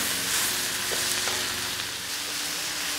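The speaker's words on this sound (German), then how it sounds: "Und auch die werden wir noch mal so ein paar Minuten mit anbraten." Meat for altdeutsches Schnitzelfleisch fries in a pan on a grill, a dense, steady sizzle and crackle held close and loud for a few seconds, no voices.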